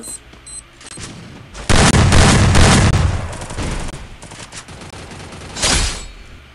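Grenade blast and gunfire in a multiplayer shooter video game: a heavy, booming explosion lands early, surrounded by sharp rapid shots and crackling bursts, with another loud volley of fire near the end.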